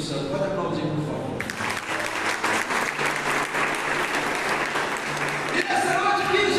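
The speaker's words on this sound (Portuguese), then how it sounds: "Pode aplaudir, por favor." Steady applause fills a Catholic prayer meeting, a dense wash of clapping from the congregation with a voice heard briefly at the start and again at the end.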